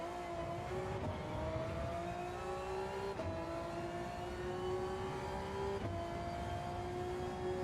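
A race car engine in Gran Turismo 7 runs steadily, climbing in pitch through repeated gear shifts, each upshift dropping the tone before it rises again, loud and continuous with no talking.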